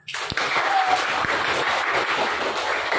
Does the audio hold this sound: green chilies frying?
no